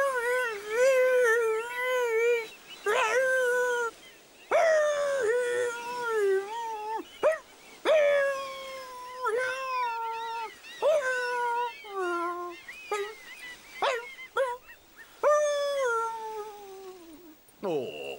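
A cartoon dog howls as if singing opera, a string of wavering, pitch-sliding wails in long phrases broken by short gaps, loud and close, alone without talk.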